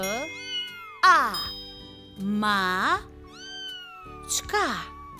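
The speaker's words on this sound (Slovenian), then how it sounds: "Mačka." A cat meows several times in long, drawn-out, rising and falling cries, close and clear, with short gaps between each call.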